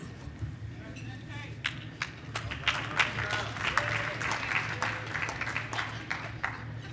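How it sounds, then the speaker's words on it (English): Conference audience applauding, a steady wash of clapping with sharper individual claps standing out, moderately close and sustained throughout, with some talk underneath. "Please, let's give Melissa Bishop Murphy another round of applause."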